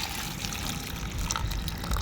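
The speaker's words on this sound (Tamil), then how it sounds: "சுடு தண்ணி நல்லா காஞ்சிடுச்சு அதை எடுத்து இப்போ நம்ம அந்த கருவாடோட ஊற்றி வச்சிடலாம்" Hot water is poured over dried fish in a home kitchen, giving a steady, close splashing and trickling that runs unbroken and grows slightly fuller toward the end.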